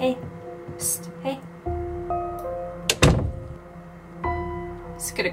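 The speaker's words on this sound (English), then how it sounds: "Is it gonna come in now that I hear the door close?" A door closes in the video game Project Zomboid, landing as one solid thunk near the middle. Sparse game sounds and short music tones surround it, and a voice speaks softly around it.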